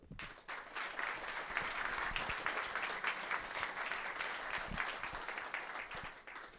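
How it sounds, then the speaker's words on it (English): A crowd at an entrepreneurship competition final applauds steadily, a dense wash of many hands clapping at once that holds for several seconds before tapering off. "take a minute and just kind of provide some applause"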